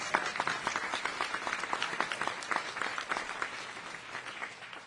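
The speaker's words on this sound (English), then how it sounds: "She deserves another round of applause." A round of applause from an audience at a live public event marking one year since the Eaton Fire, steady, dense clapping at moderate volume that carries on evenly and fades a little toward the end.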